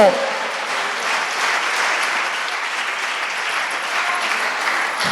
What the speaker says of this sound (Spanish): Denle un fuerte aplauso a mi Dios.